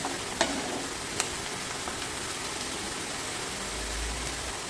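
Onions frying in a pan for a banana curry, a steady, loud sizzle filling the whole clip, with a couple of faint knocks near the start and no voices.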